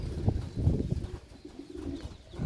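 Pigeons coo low and soft outdoors under a darkening, cloudy afternoon sky while the flock is flown, a few irregular murmuring calls rising over a steady background hum.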